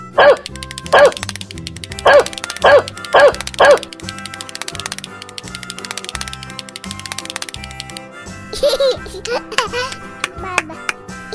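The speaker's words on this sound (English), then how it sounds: "Dog." A toy dog bought in a supermarket barks in a quick series of about six yaps, then gives a few more near the end, all over continuous background music.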